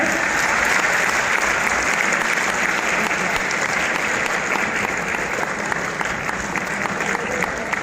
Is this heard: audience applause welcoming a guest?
yes